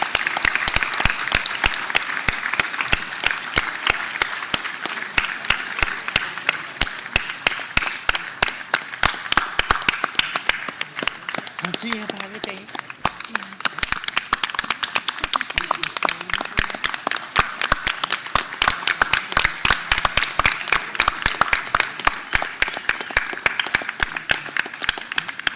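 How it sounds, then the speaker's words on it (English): An auditorium audience at a graduation ceremony gives a standing ovation, sustained dense clapping that stays loud and even for the whole stretch, with faint voices briefly audible midway. "We invite everyone to give them a standing ovation as they leave the auditorium."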